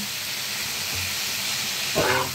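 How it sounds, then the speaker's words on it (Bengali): Frying in a pan gives a steady broadband hiss and sizzle, close and continuous, with a brief louder clatter near the end and no voices. "এটা ভালো করে আগে ভেজে নেব"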